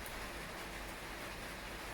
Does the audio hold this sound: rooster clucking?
no